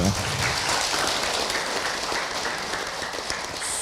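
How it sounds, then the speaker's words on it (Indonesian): Dense, steady applause from a crowd, a continuous wash of clapping with no gaps, moderately loud throughout. "Tepuk tangan buat kita semua"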